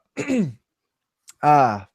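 A man on a podcast clears his throat in two short, rough bursts separated by a brief pause, close and fairly loud against silence.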